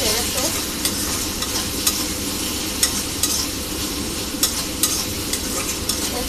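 Spice paste fries in oil with a steady close sizzle, while a spatula scrapes and taps the pan at irregular intervals as the masala is stirred.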